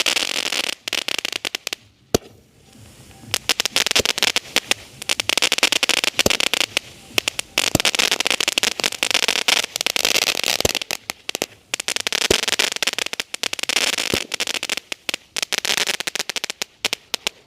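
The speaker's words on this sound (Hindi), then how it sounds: "ये चल रहा हमारा सोनी का स्वीट ड्रीम्स वाला 12 शॉट" A Sony Sweet Dreams 12-shot Diwali firework fires outdoors as a dense, loud stream of crackling bursts and sharp pops with brief gaps between shots.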